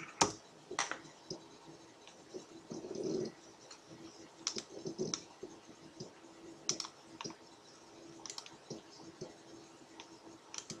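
Quiet typing on a computer keyboard, scattered sharp key clicks in short irregular bursts with gaps between, close and faint, with no talk.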